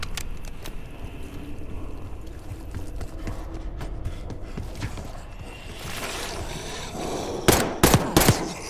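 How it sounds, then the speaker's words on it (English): Gunfire rattles in Call of Duty: Black Ops 6, scattered distant shots and short bursts that sound muffled as if from lower floors, then a few sharper, louder reports near the end. "You hearing gunfire?"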